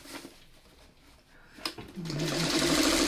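A sewing machine stitches plaid fabric pieces for a scrappy quilt block, starting after a short pause and then running in a close, steady, rapid whir.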